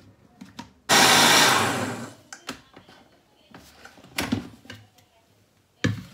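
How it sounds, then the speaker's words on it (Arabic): An electric blender grinds almonds with milk in a burst of loud, dense whirring of about a second, then falls away to quieter kitchen clatter and a few short knocks. "غادي نطحن اللوز والحليب مليح حتى كيتنيل هذاك اللوز"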